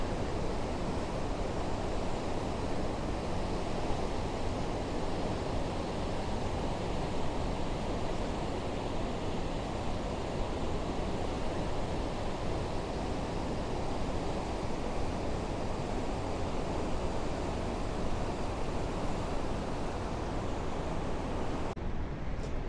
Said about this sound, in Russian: мы сейчас находимся на водопадах в Нью-Джерси